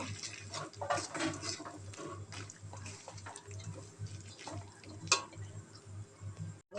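Peanuts tossed into hot ghee and stirred in a pan while making Bengali badam chikki, with soft scraping and wet stirring sounds under a steady low hum, with no talking.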